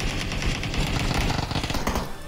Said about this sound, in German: Wow, fuck, er schießt von weitem auf mich.